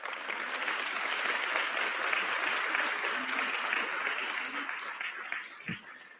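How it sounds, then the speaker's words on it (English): An audience applauds at a technical education commencement ceremony, a dense sustained round of clapping that swells, holds steady and begins to thin toward the end, with a few murmured voices underneath. "I would like for you to give them a round of applause."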